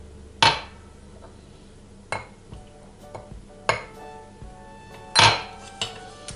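A wooden spoon stirs a day-two sourdough starter feeding of flour and water, giving a handful of irregular, close knocks and scrapes against the container with quiet gaps between them and no talking.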